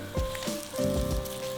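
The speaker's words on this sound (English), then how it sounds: "a white onion and a red onion, cut it into strips, shoved it into a frying pan with some oil and sugar onto the heat" Strips of white and red onion frying in a pan with oil and sugar, a soft steady sizzle with faint crackles and a low hum behind.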